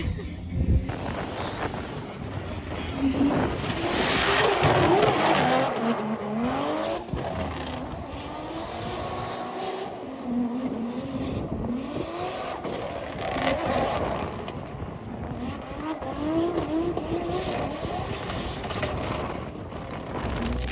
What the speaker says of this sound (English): I didn't even know the anti-lag was still that loud